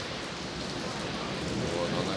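Rain falling outdoors as a steady, even hiss of drops on surfaces, fairly faint and constant throughout, with no voices over it.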